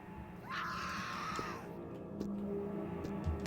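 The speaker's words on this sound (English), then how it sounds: "Don't think I don't hear you screeching over there" A screeching enemy in the horror video game BlackSoul, explored in a hospital area, lets out one drawn-out, wavering shriek that fades into a low ambient drone with faint knocks.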